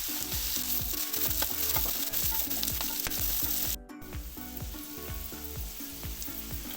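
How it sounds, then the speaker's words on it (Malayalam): Curry leaves crackle and sizzle in hot oil for a vegetable upma, a dense steady frying hiss with brief stirring, dipping for a moment midway, no talking. "ഇതിലേക്ക് കറിവേപ്പില ഇട്ട് കൊടുക്കാം"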